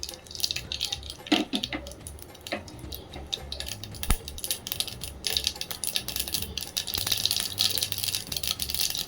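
Mustard seeds pop and crackle in hot coconut oil in a pan, sounding as irregular sharp ticks and spatters over a steady background hiss, close and fairly quiet with no talking.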